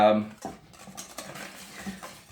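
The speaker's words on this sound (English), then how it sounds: "We've got our whisk, and we're going to whisk up our sauce here, like so" A whisk clinks and scrapes against a bowl while stirring a garlic sauce, quick light metallic taps and swishes after a brief voice at the start.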